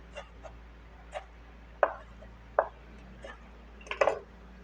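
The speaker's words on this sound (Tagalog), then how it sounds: "Kung anong klaseng hiwa ng sibuyas, ganoon din ang gawin natin sa kamatis" A knife cuts tomatoes on a board, in the same style as onion cut just before. Sparse, crisp chops land one at a time with quiet pauses, and a quick double cut comes near the end.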